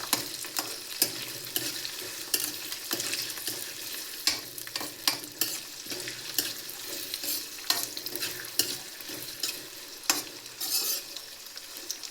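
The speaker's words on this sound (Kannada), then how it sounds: "ಸೊ ಈರುಳ್ಳಿ ಕಲರ್ ಚೇಂಜ್ ಆಗೋವರೆಗೂ ಇದರಲ್ಲಿ ಎಣ್ಣೆಯಲ್ಲಿ ಫ್ರೈ ಮಾಡ್ಕೊಳ್ಳಿ" Onions fry in hot oil in a pan while a spoon stirs them, giving a constant close sizzle broken by frequent scraping strokes and clicks, with no voices.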